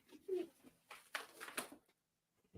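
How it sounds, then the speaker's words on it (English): A pigeon or dove coos softly indoors, a low throaty call among scattered faint rustles and taps, quiet and close before a brief silence. "why do I keep hearing birds chirping or something?"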